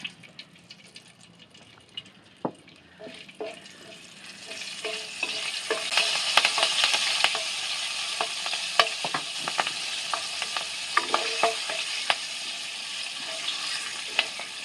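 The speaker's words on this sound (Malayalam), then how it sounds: "ഞാനിപ്പോൾ ഇച്ചിരി കാന്തകാരി മുളകാണ് ഈ എണ്ണയ്ക്കകത്തോട്ട് ശകലം കാന്തകാരി മുളക് കൂടെ ഇതിനകത്തോട്ട് മൂപ്പിച്ച് ചേർക്കാം" Kanthari chillies fry in hot oil with a steady sizzle that swells after a few seconds and holds, broken by occasional sharp clicks of a spoon stirring against the pan.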